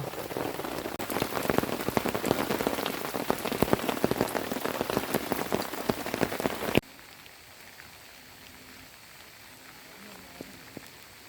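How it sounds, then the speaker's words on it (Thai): Heavy, continuous rain pours down in a forest, loud and dense for several seconds before cutting abruptly to a quiet, faint background with a few light taps. "ตอนนี้สถานการณ์เปลี่ยนภารกิจของเราก็เปลี่ยนเนื่องจากฝน ตกอย่างต่อเนื่องนะครับ"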